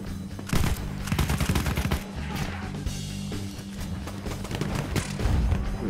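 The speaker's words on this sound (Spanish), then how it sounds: "Uy, carajo, me está disparando." Heavy close-range gunfire in the World War I shooter Battlefield 1, with dense bursts of submachine gun fire and the occasional booming blast rolling on continuously over several seconds.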